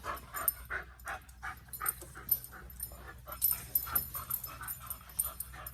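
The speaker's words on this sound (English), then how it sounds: "We've got dogs going wild here," Excited dogs pant rapidly and whimper in short, uneven bursts close by, alongside a steady low hum where a Polaris RZR 1000 belt is being changed.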